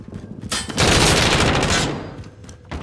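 Stoner machine gun firing in a video game: a long, loud, dense burst of rapid automatic fire lasting over a second, followed by quieter trailing shots, with no talk over it.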